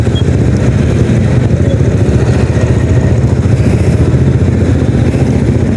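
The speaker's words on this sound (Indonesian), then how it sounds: "untungnya saya pakai motor bebek" An underbone motorcycle rides along a road, its small engine droning steadily and close throughout with constant wind and road noise and no break in the sound.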